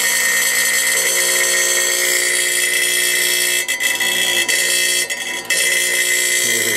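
Vibratory feeder of a Retsch PT100 sample divider runs with a loud, dense, continuous buzzing drone, briefly dipping twice as the vibration setting changes.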